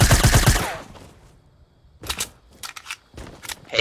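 Gunfire in Fortnite: Battle Royale, a couple of sharp bursts of shots after a loud opening stretch, separated by short quiet gaps, with no talk over them.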